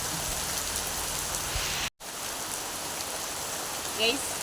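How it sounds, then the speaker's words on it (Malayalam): Heavy rain pours down steadily outdoors, a dense, loud hiss of drops on surfaces that is interrupted by one abrupt brief cutout, then resumes with a faint chirp and a voice briefly audible near the end. "നല്ല മഴ ഉണ്ട്"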